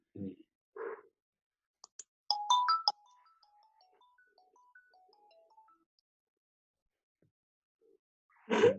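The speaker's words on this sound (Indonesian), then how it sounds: "Dan telepon mengganggu, biasanya kartu kredit, tawaran apa itu" A phone ringtone plays a short stepped electronic melody of rising and falling tones, quiet and alone, bracketed by brief voice sounds at the start and end.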